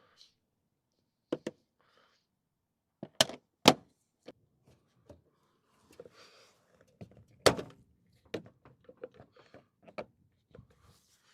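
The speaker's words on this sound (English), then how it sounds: "it should all just be clips we can just pull out." Plastic trim clips are pried off the side skirt of a crash-damaged Mercedes A Class AMG, giving scattered sharp pops and snaps at uneven intervals, with small rattles and knocks between them and no talk.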